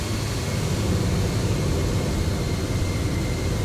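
Engines of a FlightFactor Boeing 767-300 in the X-Plane 12 flight simulator, a steady broadband roar with no talking, unchanging and constant throughout.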